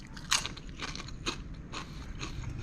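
Spicy Doritos chips crunched in several crisp bites spread over a few seconds, fairly faint against a steady low outdoor background with no talking.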